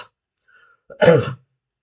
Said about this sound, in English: I've been down with a cough, so excuse the cough